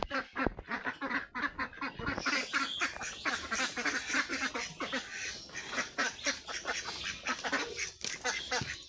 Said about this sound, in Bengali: এই যে এখন খাবার খাচ্ছে হাঁসগুলা।